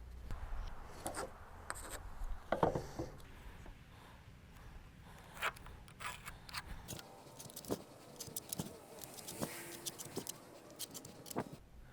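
A pencil marks numbers on a wooden deck stair stringer board with a steady series of short scratchy strokes and taps, close by, under faint background noise.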